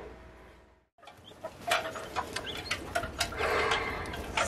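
Newly hatched chicks chirping around an incubator and brooder box, a dense run of high, quick peeps that swells after a brief pause and carries on steadily, close by.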